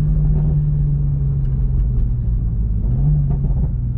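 Low, continuous engine rumble from a Toyota Supra heard with windows up, with scattered soft exhaust pops from a modified exhaust crackling through a couple of times.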